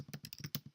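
Quick, faint keystrokes on a computer keyboard, about eight clicks in under a second, while a short note is typed.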